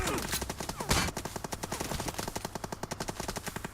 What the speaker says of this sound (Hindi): गोली चलाता है वो बगल से, मैं देता हूँ फायर